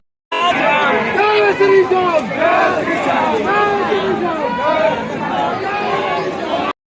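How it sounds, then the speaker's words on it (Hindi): A dense crowd of devotees at the Khatu Shyam temple loudly chants praises of the deity in overlapping rising calls, continuous and close, with a surge of massed voices throughout. "आसपास सब लोग बाबा के जयकारे लगा रहे थे, जोर जोर भीड़ के साथ आगे बढ़ते जा रहे थे"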